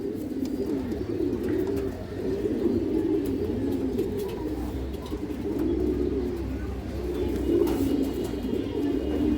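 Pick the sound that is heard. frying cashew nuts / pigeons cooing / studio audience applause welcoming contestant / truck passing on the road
pigeons cooing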